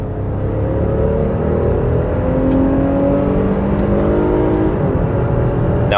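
A loud, close engine drone from an Infiniti QX60 three-row luxury SUV accelerating, its pitch climbing steadily as the 9-speed transmission upshifts on its own, with no talk.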